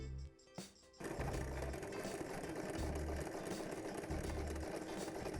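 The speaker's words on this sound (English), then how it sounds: "So what I'm going to do is sew it to one side, then pull and sew it to the other" Sewing machine stitching the side seam of a shopping-style beach bag with plastic lining, running steadily and close with a rhythmic mechanical whir, pulsing a few times after a brief pause at the start.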